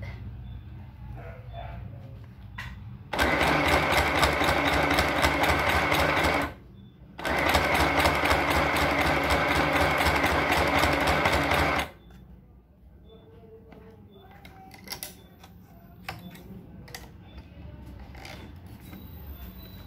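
A sewing machine stitching a shirt or blouse from armhole to hipline runs in two steady bursts of rapid stitching, briefly pausing between them, followed by quiet handling noises.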